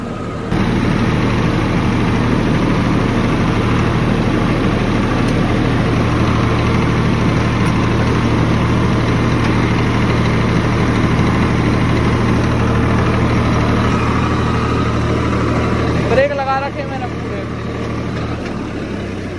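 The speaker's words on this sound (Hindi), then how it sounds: "फिर भी ट्रैक्टर इतना तेज चल रहा है।" A Massey tractor engine runs steadily while hauling a loaded sugarcane trolley during harvest, a loud continuous low drone close by that holds evenly throughout before easing slightly near the end.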